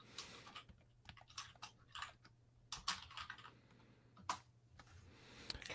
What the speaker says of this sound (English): I'm just tapping it, typing it into the YouTube